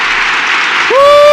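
Studio audience applause, a dense broadband wash of many hands clapping at once, loud and continuous, then an abrupt whistle-like rising tone cuts in near the end.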